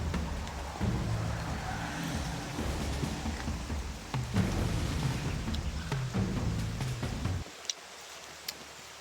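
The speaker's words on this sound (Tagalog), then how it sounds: "Ayan, lakas ng ulan guys, oh." Heavy rain pours outdoors, a loud, continuous broadband roar with low rumbling underneath, sustained for most of the span before dropping off sharply near the end to a quieter patter.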